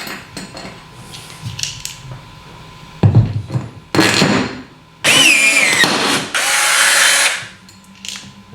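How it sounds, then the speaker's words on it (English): A riveting tool pulls Cherry Max rivets in a series of short, loud mechanical bursts and clacks separated by quieter handling noises, heard up close with no talking. "What this allows you to do is when pulling the Cherry Max, it will retain the rivet stem"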